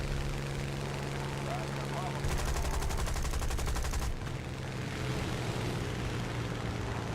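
Bomber guns fire slowly in the War Thunder game, as a rapid rattling burst of roughly two seconds over steady engine drone, with a voice talking underneath.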